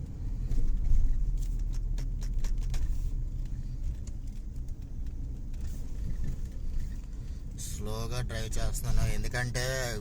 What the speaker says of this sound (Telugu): ఇది ముందే స్పోర్ట్స్ కారు కొంచెం బాగా పవర్ఫుల్ ఇంజిన్ అనమాట